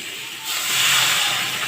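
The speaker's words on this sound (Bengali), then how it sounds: "এবার আমি জল ঢেলে দেবো" Water is poured into a hot pan of bitter gourd and small fish, setting off a sudden loud surge of hissing steam that swells and then holds steady, close by.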